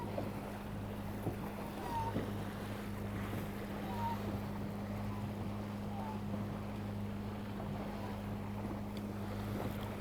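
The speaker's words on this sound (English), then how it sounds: "Doesn't she cut the water beautifully?" A sailboat cuts through the open sea on a solo passage from Ireland toward Madeira, with a steady wash of water and wind noise and a low engine-like hum throughout.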